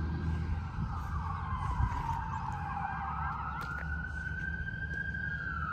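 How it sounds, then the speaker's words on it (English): An ambulance siren wails in a slow rising and falling sweep over steady traffic rumble, fairly close and prominent throughout. "Some other emergency vehicle's coming now."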